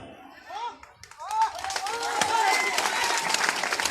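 A rally crowd at a tribal day gathering in Boradi breaks into applause, building from scattered claps into sustained dense clapping, with someone speaker's voice heard briefly before it swells.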